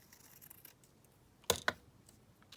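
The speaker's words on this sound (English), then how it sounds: "Just trim this off at the edge." Scissors trim black lace at the edge: two quick, crisp snips close by, in a quiet room with faint background hiss.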